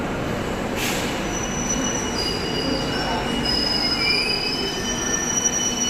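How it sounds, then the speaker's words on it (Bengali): A metro train pulls in with loud, high metal wheel squeal sustained over the rumble of the cars, heard up close on a busy platform. "উঠে পড়লাম মেট্রোতে"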